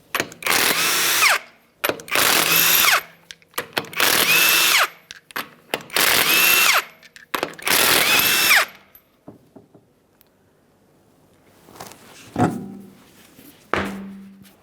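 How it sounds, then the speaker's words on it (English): A power tool spins off the five 22mm lug nuts on an Acura MDX wheel in five loud, close bursts of whirring buzz, each about a second long, followed by quieter clinks and handling sounds. "we're going to remove the wheel by removing all 5 of our 22mm lug nuts"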